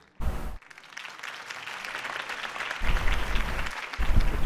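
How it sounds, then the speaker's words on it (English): Crowd applause from the Batman Telltale Series video game, a burst of clapping and cheering that swells and fades over a few seconds, fairly loud and alone without talk. "If only Mr. Wayne, my campaign's largest backer, could have heard that applause"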